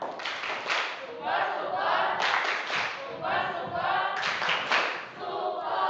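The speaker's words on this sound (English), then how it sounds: "what about we're doing a super clap first?" A classroom of students performs a super clap, several rapid bursts of group clapping mixed with shouted cheering voices, close and lively across the few seconds.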